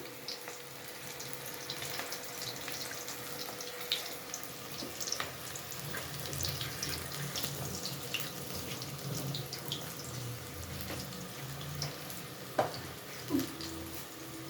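Cut pieces of bread are rinsed in water, a faint running, trickling splash with small drips and clinks, fairly quiet and steady throughout.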